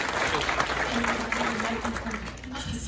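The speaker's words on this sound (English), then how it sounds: "I think that they deserve a round of applause" Applause from a horror convention audience for a Blair Witch Project reunion panel rises as a steady wash of clapping that carries through the whole moment, with a voice talking over it.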